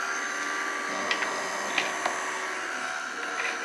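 A hot air blower on a medium setting heating heat shrink tubing on a small drone's radio module, a steady, fairly quiet airy hum with a few faint clicks and taps over it, with no talk.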